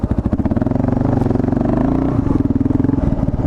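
Dirt bike riding over whoops with a fork brace and riser link upgrade, the engine popping in a rapid, steady loud beat up close, with brief clattering as the bike works over the bumps.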